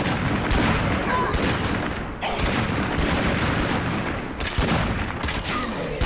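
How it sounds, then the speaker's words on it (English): Incendiary grenade and gunfire in a video game: a dense, loud barrage of booms and crackling shots that runs continuously with no pause. "Let me throw another incendiary at him."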